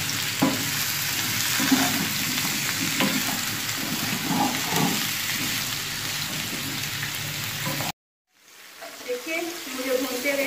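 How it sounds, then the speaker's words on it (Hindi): Jackfruit curry fries in a pan with a steady, loud crackling sizzle and occasional stirring, then stops abruptly before fainter cooking sounds resume. "मैं 5 मिनट के लिए फ्राई करूंगी।"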